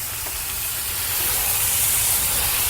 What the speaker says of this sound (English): Got a good sizzle going on our Gator Pit, which I like to hear.